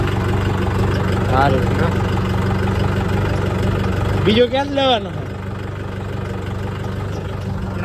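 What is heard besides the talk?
tractor engine idling on farm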